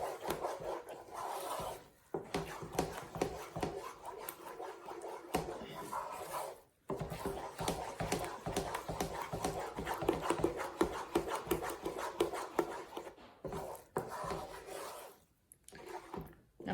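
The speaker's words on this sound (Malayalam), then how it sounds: "ഇതും കൂടി ചേർത്ത് നമുക്ക് നന്നായിട്ടൊന്ന് മിക്സ് ചെയ്ത് കൊടുക്കാം." A spoon scrapes and stirs a wheat-flour halwa mixture in a pan, a continuous rasping rub with brief pauses, fairly quiet and close, with no one talking.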